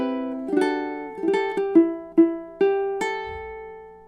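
A ukulele picks a quick melodic phrase, clear plucked notes ringing with sharp attacks, several struck in rapid succession, close and alone.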